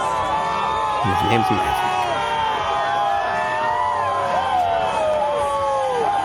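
A wrestling crowd in East San Jose roars and whoops for a championship wrestler, a sustained wall of cheering with a ring announcer speaking over it.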